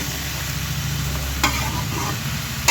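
Food frying in a pan during home cooking, with a steady close sizzle and two short scraping stirs. No one speaks.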